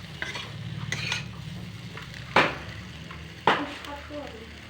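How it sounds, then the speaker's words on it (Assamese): Potatoes frying with ginger and garlic are stirred in a pan, with a low sizzle and soft scraping and two sharper spatula knocks against the pan; there is no clear talk. "আদা নহৰুৰ গোন্ধ নোযোৱালৈকে এনেকৈ লৰাই থাকিব লাগিব।"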